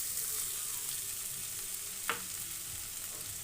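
Sugar stirred into a sweet-sour-spicy pickle in a pan, a steady soft hiss with one brief scrape of the spoon, close and fairly quiet.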